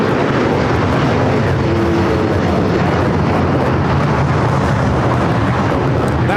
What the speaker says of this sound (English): That was United Airlines 2113 taking off to Chicago on the 757-300